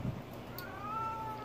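A pet cat gives a single drawn-out meow close by, rising and then falling in pitch over about a second, with quiet room noise behind it.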